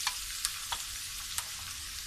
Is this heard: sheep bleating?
no